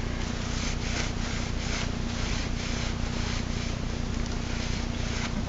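Brush scrubbing the links of a motorcycle chain clean with WD-40, a close, rapid back-and-forth rubbing in steady strokes over a constant background hum.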